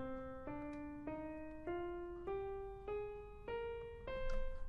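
A C natural minor scale climbs step by step on a single sustained melodic instrument, eight even, clearly separated notes rising steadily, played alone at moderate loudness.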